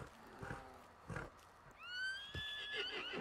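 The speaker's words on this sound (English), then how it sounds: "we got some more horses down there" A horse in Red Dead Redemption 2 whinnies loudly and close by, a rising then wavering neigh after a few soft snorts and shuffling sounds, with no talk over it.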